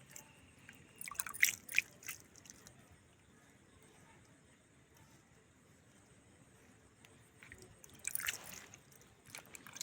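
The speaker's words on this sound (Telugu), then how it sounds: "అలా నీళ్ళు చల్లేసుకోవాలి." Water sprinkled by hand onto coriander seeds pressed into garden soil, heard as faint, scattered wet drips and soft splashes in two short bursts, near the start and again near the end, with quiet between.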